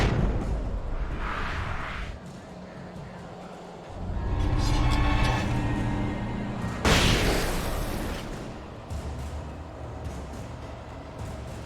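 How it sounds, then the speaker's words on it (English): A flashbang goes off in Alan Wake Remastered, a sudden loud bright burst after a rumbling stretch, ringing briefly before fading into low ambient noise. "I'll throw a flashbang."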